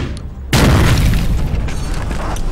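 A grenade detonates in a video game with a sudden loud boom about half a second in, followed by a sustained rumbling roar of debris and reverberation that fills the rest of the clip.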